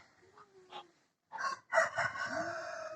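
After a few soft sounds and a brief silence, a rooster crows loudly nearby, one drawn-out cock-a-doodle-doo.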